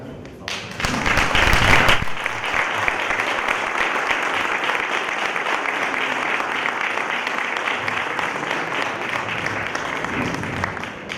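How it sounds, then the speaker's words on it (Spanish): An audience at a conference on Spanish history breaks into sustained applause, a dense steady clapping that swells quickly and continues evenly for several seconds. "un aplauso, por favor"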